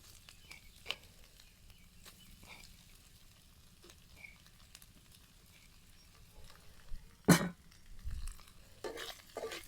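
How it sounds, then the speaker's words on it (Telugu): Chicken and noodles frying in a pan for street-style double egg chicken noodles, a faint steady sizzle with occasional utensil clinks and a louder scrape near the end. "ఇలా 2 నిమిషాలు వీటిని ఫ్రై చేసుకుంటే బాగా ఫ్రై అవుతుంది"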